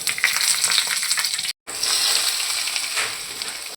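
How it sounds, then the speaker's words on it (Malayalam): Mustard seeds and curry leaves crackle and sizzle in hot oil in a pan for Kerala-style avial, a dense, steady, bright frying hiss with a brief cut midway. "ഓയിൽ ഒഴിച്ചു കൊടുക്കാം കടുക് ഇട്ട് കൊടുക്കാം കറിവേപ്പില ചേർത്ത് കൊടുക്കുന്നുണ്ട്"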